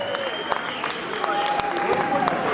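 A concert audience applauds at a show featuring many artists: dense, steady clapping fills the space, with a sustained tone and voices mixed in.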